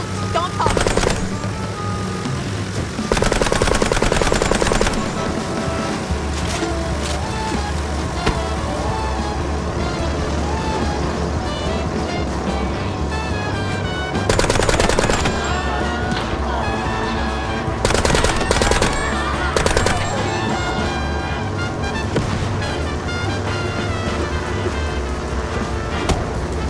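Rapid bursts of gunfire crackle in the Mouse P.I. for Hire video game, with several loud machine-gun-like volleys against a layer of game music and effects, and character voices talking in between.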